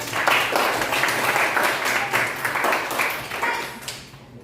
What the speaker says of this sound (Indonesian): Kasih tepuk tangan untuk Ara dong.